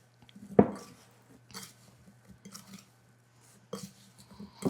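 A spoon stirs apple slices with cornstarch in a bowl, giving a few soft scrapes and dull clunks separated by quiet pauses.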